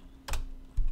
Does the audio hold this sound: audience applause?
no